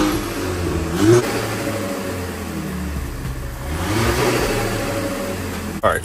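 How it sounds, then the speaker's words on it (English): An Audi TT with a newly installed K04 turbo revs up close, its engine rising in a quick throttle blip and then settling into a steady, droning mid-pitched hum that holds for several seconds before another short rev at the end. "Everything checked out, so we went straight to revving it."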